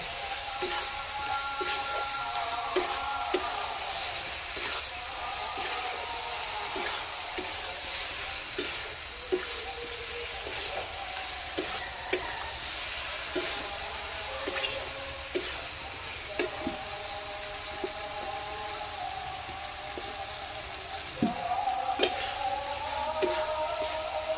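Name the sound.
potatoes stir-frying in spiced oil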